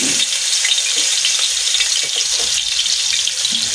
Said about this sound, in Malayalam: വെളിച്ചെണ്ണ ചൂടായിട്ട് നമുക്കിതിലേക്ക് നമ്മൾ മിക്സിയിലിട്ട് ഇപ്പോൾ പൊടിച്ചുള്ളതാണ് ചെറിയ ഉള്ളി ഇതൊക്കെ.